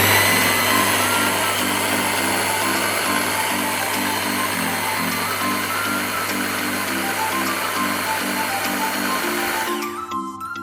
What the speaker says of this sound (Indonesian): tahunya separuh aku blender